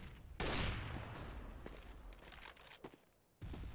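Gunfire in a competitive Counter-Strike-style match at the Copenhagen Games 2015 esports tournament, a loud burst of rapid shots opening with a sharp attack and sustained crackle, a few scattered single reports, then another abrupt burst near the end.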